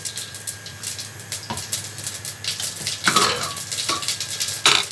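Tempering for a vegetable curry, with black cumin added as a pan is stirred: scraping and clinking of metal utensils against the pan, soft sizzling underneath, and a few louder clatters near the end.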